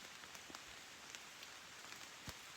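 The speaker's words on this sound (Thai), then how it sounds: "ฝนเนี่ยตกปล่อยๆนะ แต่ดีนะที่แบบว่ายังมีพบต้นไม้บังนะครับ" Rain falls steadily outdoors under sheltering trees, a soft continuous hiss of drops with scattered sharper taps of larger drops striking nearby surfaces.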